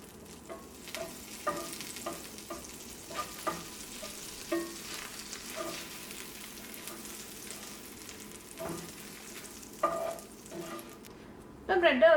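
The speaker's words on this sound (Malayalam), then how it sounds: "നമുക്കൊരു മീഡിയം ഫ്ലെയിമിലിട്ടിട്ട് ടോസ്റ്റ് ചെയ്തെടുക്കാം" Bread slices toasting with a small piece of butter in a pan over a medium flame, a soft steady sizzle broken by repeated light scraping and tapping of a utensil, with a louder clatter near the end.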